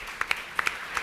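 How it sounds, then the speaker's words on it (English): Scattered applause from a small audience at a motocross press conference, with a handful of separate, close claps over a low murmur and no clear speech. "Round of applause for all those guys"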